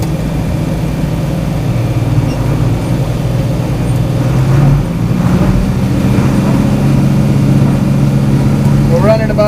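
A tractor engine runs a hay baler at about 1800 RPM, a steady loud droning hum with a slight pitch shift midway and faint mechanical clatter near the end.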